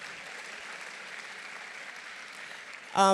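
A conference audience at a plenary session applauds in a steady, even wash of clapping, and a louder voice breaks in right at the end.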